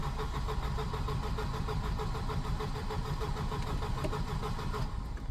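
A Volvo 240 with K-Jet fuel injection cranks steadily without firing, giving an even rhythmic churn of the starter that goes on the whole time and then breaks off near the end.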